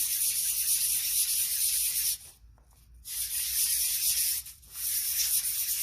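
A ring being sanded by hand with sandpaper: a steady, close, abrasive hiss of rubbing strokes that drops out briefly twice as the paper is lifted, with no talking.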